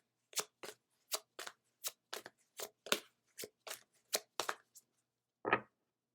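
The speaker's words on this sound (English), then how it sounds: "Next, we will pull a card from the Work Your Light deck." Crisp papery card shuffling from an oracle deck, a quick run of sharp riffling snaps followed by a brief pause and one last fuller flick as a card is drawn, close and clean with no voices.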